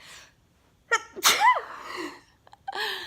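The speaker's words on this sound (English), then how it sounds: "I'm gonna sneeze." A single close, sharp sneeze with a quick breathy build-up, followed by a short wheezy exhale and a brief second catch of breath.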